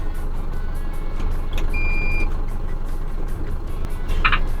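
A large truck backs up, its reversing alarm sounding a short burst of bright beeps near the end over a steady low engine rumble and road noise.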